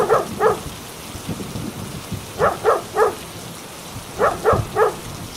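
Heavy rain hisses steadily in strong wind while a nearby dog barks in groups of two and three sharp woofs, spaced across the stretch.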